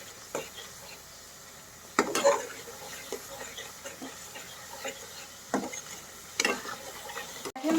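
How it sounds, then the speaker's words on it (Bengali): A spice paste for chicken roast is sautéed in a pan: soft, occasional spatula scrapes and knocks over a faint, low sizzle, fairly quiet and close. "এখন মশলাটা বেশ কিছুক্ষণ ধরে কষাবো যাতে মশলার কাঁচা গন্ধটা"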